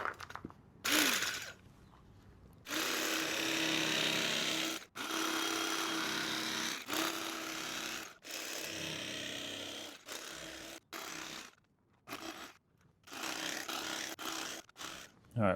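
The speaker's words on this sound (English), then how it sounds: "let's do some cutting. I have my trusty old turkey knife" An old electric turkey knife buzzes in repeated bursts while cutting foam for a custom 1979 Honda CBX motorcycle seat, the motor whining loudly for a few seconds at a time between short pauses.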